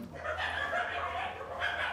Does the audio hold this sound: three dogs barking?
yes